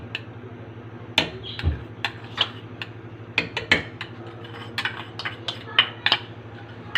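A spoon stirs a milk mixture in a pan while cooking barfi, giving irregular close scraping and clinking taps against the metal, with no talk.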